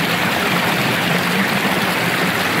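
Water streams steadily through a rural ditch, a close, even rushing wash with no pauses or voices.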